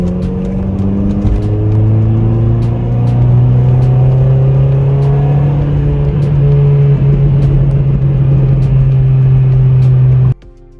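A Citroen C4 VTS accelerates in third gear, its engine note climbing steadily in pitch as a loud, continuous droning rumble from inside the cabin for about ten seconds before cutting off abruptly.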